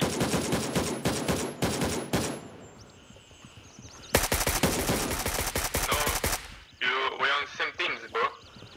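Rapid bursts of gunfire ring out in the video game Gray Zone Warfare, with dense firing at the start and again midway, while players talk over and between the shots.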